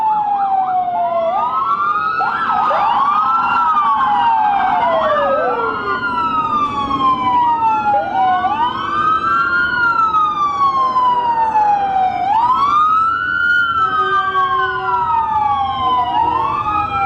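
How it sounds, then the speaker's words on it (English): Several emergency vehicle sirens wail and yelp at once at a Memorial Day parade in Champlain, overlapping sweeping tones, loud and close over traffic rumble, with no talking. "emergency vehicles had to take off, keep the sirens for the emergencies"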